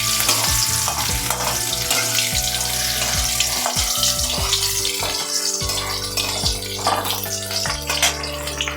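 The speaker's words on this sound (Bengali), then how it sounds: "দিয়ে দিচ্ছি গাজর, গাজরটাকে আমি হালকা করে একটু নেড়ে নেব" Carrots sizzle and get stirred in a hot pan for a Bengali thin fish curry, with steady loud frying and scraping spatula strokes throughout, nearby and without talk.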